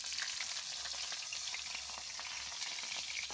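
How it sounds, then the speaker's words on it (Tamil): Onions and green chillies frying in hot oil with mustard seeds and cumin for a potato and carrot kurma, a steady close crackling sizzle with faint stirring, no talk. "இப்போ வெங்காயமும் பச்சை மிளகாயும் சேர்த்துக்கலாம்"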